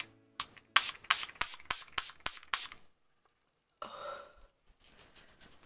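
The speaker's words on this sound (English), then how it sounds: "I'm just going to spray with the All Night Setting Spray." A small mini bottle of All Night makeup setting spray pumped in a quick run of about eight sharp hissing bursts, close up, then a pause and a few softer rustles.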